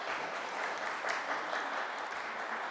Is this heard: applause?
yes